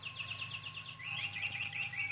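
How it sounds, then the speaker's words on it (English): Caged birds chirp in rapid, repeated high tweets, one bout followed by a slightly higher second run, moderately close in a quiet room with no talk. "Those birds, I don't like them."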